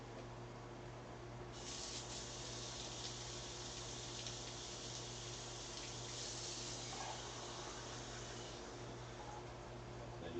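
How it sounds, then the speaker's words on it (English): Water runs from a tap into a can of cream of mushroom soup, a steady hissing stream lasting several seconds over a quiet kitchen hum. "We just add a bit of water in there"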